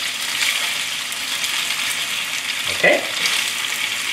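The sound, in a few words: vegetables and thick rice noodles stir-frying in a pan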